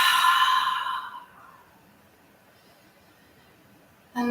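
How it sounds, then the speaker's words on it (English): A deep breath during a seated yoga practice: one long, audible exhale that fades over about a second, then near silence until a brief intake of breath at the very end. "draw that breath in and exhale it out"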